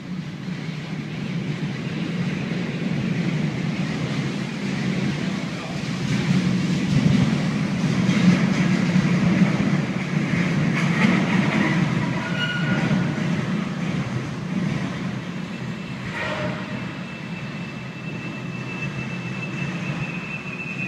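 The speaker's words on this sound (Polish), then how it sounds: "Podczas wjazdu na stację doszło do groźnego incydentu. Pociąg niespodziewanie wypadł z torów." A train rolling into a station and jumping off the rails, with a steady loud rumble of wheels and wagons throughout, brief metallic squeals and clanks rising partway through, and no talk.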